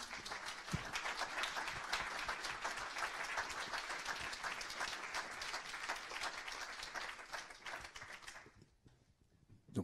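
Sustained audience applause for schoolteachers at a talk on project-based education, dense steady clapping for about nine seconds before fading out near the end.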